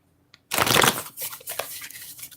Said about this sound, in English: Damn, I can't even shuffle the deck.